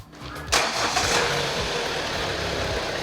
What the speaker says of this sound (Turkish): Çalıştır arabayı.